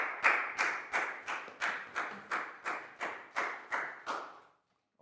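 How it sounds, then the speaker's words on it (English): About a dozen evenly spaced claps from Year 4 students in a math classroom, each sharp and close with a short ring, in a steady rhythm that stops abruptly. "High five and a big round of applause for Bangpon,"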